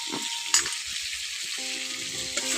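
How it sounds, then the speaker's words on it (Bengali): Potato and egg frying in a pan for an egg curry and being stirred in with spices: a steady close sizzle, broken by scraping stirs and a few soft knocks. "আলু ডিম দিয়ে ভালো করে মশলার সঙ্গে মিশিয়ে নিচ্ছি"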